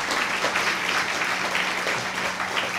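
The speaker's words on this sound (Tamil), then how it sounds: "நல்ல ஒரு கைத்தட்டு கொடுங்க." Audience applause at a Pongal special debate stage event, a steady dense clapping from a large crowd that fills the whole stretch evenly without any pause.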